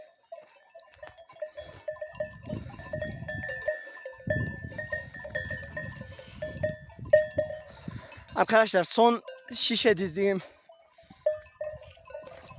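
Sheep on a cold highland pasture stir with cowbells clanking now and then, a couple of loud close bleats rising near the end while someone talks over the scene.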